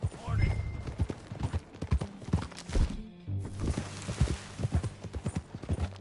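Horse hooves clip-clopping in Red Dead Redemption 2, a steady rhythmic trot of close, sharp hoof strikes with a brief pause midway, underlying game ambience and a possible whinny.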